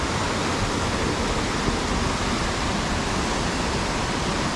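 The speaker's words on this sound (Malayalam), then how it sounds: "ഞങ്ങളിതാ വെള്ളം ഒഴുകുന്ന സ്ഥലത്ത് എത്തിയിരിക്കുകയാണ്" A mountain stream on the hiking trail between Manikaran and Tosh rushes nearby in a loud, dense, unbroken wash of water noise, with no voices.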